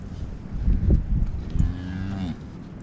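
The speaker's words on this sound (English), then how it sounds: "Ah, it's a bull." A newborn bull calf on a cattle ranch gives a low, drawn-out moo close by, with a short grunt before it.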